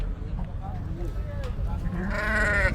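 Sheep bleat at a livestock market in Qorabuloq, Kazakhstan, where ewes are sold with their lambs; a couple of bleats sound up close over a steady crowd murmur, the loudest one rising near the end.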